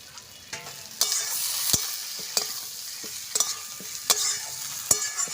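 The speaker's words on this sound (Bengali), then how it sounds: "ভালো করে আবার কষিয়ে নিচ্ছি আমি। স্বাদ মতন লবণ দিয়ে দিলাম।" Snakehead fish curry masala with salt sizzles in a pan while a spatula scrapes and knocks against the metal in repeated sharp strokes, close and clear, with no talking.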